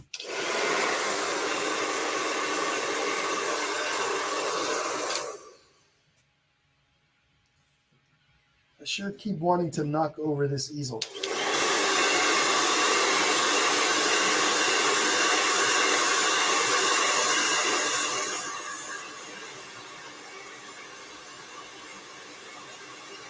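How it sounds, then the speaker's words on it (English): A handheld blow dryer roars steadily while drying acrylic paint on a Santa painting, cutting out briefly for a spoken remark before running loud and continuous again. "I'm going to take my blow dryer now and go ahead and dry up what I've got."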